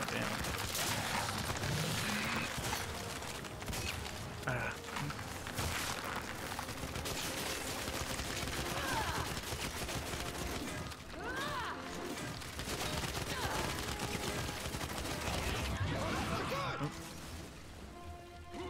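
Sustained gunfire fills Gears 5 while the player fires at an enemy, with dense rapid shots and impacts running the whole time. A voice talks over it.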